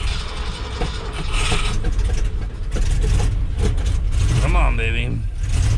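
A 1973 Ford F250 truck engine cold-starting in zero-degree freezing weather: a loud, rough mechanical rumble with the engine turning over, while someone talks briefly over it near the end.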